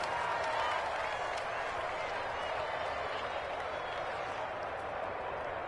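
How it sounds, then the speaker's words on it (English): Crowd noise swells in a football video game on PS4, a broad, steady roar of cheering and clapping at moderate volume that holds throughout without clear peaks, with background commentary faintly beneath. "The crowd getting into it as we come up on a big 3rd down"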